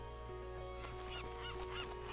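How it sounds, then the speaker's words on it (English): A cartoon seagull in the golf game Wonderputt gives several quick nasal honking cries over a steady humming game soundtrack. "Little seagull."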